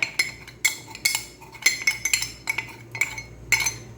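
A spoon clinks rhythmically against a bowl while mixing sponge cake batter, sharp metallic taps arriving roughly every half second, close and clear with no talk.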